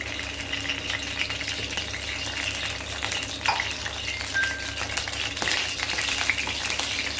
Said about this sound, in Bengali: কড়াই গরম হয়ে গেছে, এখন অল্প একটু সরষের তেল দিলাম।